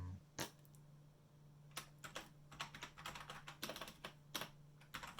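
Fingers type on a computer keyboard with quick, close keystroke clicks, first in scattered bursts and then in a denser run, over a faint steady hum.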